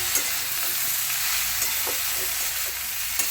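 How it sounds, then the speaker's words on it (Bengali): Bitter gourd fries in oil with salt and turmeric under a dense, steady sizzle, with soft periodic scrapes and taps as it is stirred, close and even, no speech. "এভাবে নুন আর হলুদটা দেওয়ার পরে কিছুক্ষণ নাড়াচাড়া করব।"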